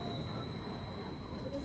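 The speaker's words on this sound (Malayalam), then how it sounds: "ട്രാം വന്നു തുടങ്ങി." A tram pulling into a stop in Zurich gives a steady low rumble with a thin sustained high squeal from the wheels, heard briefly from the platform.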